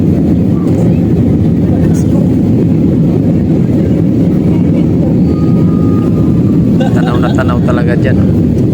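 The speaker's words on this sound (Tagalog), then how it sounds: "Angat pa ang lipad ng eroplano dito." Airplane climbing after takeoff, heard from inside the cabin as a loud, steady engine roar filling the whole clip, with a person talking over it.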